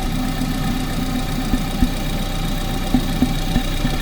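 A car engine idling steadily up close, a continuous mechanical hum with occasional light knocking ticks.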